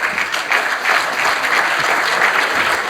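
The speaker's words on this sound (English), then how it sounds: "There's a round of applause." Audience at a young parliamentarians' commemorative gathering breaks into a round of applause, dense, steady clapping sustained at even loudness throughout, with no voices standing out.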